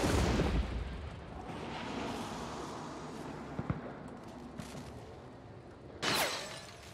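In Hunt: Showdown, a gunshot breaks a window, heard as a booming blast with a rumbling tail, followed later by a sharp, bright crack of shattering glass over faint ambient rumble.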